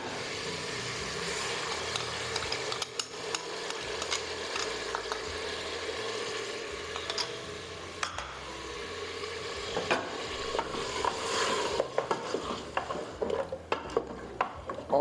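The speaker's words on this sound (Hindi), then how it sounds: "मसालों को अच्छी तरह से भून के दही डाल देंगे।" Spices and yogurt fry in a pot for Lucknow-style mutton korma, giving a steady close sizzle with frequent scraping and clinks of a stirring spoon against the pan; no one talks.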